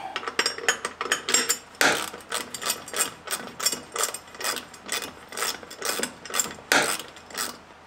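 A boat's shallow-water pole anchor bracket being tightened, heard as a close, rhythmic series of ratcheting clicks repeating about twice a second.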